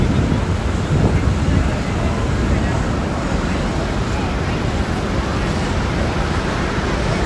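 Roar of the Canadian Falls at Niagara Falls in autumn, a loud continuous broadband rush of falling water with wind buffeting the microphone throughout.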